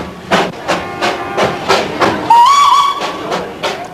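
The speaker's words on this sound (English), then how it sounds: "the little hill train runs smack down the middle of the main street" A little hill train in an Indian hill town runs down the middle of the main street, chuffing in a steady, loud rhythm, with a sharp whistle sounding partway through.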